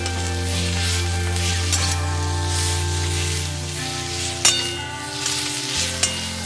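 Pumpkin leaf mash with salt and turmeric is stirred in a frying pan, a constant sizzling hiss broken by sharp scraping knocks of the spoon against the pan near the end.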